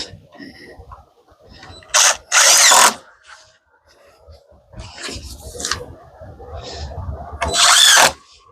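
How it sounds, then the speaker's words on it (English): A drill drives screws into the wood framing of a small off-grid cabin wall: two loud, short whirring bursts, close by, separated by quieter knocks and handling noise. "I'm going to put a few screws in here to hold this in place"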